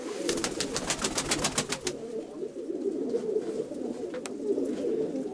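Pigeons from the Donetsk region coo in overlapping low, rolling calls throughout, close by, with a rapid burst of sharp clicks or wing taps near the start.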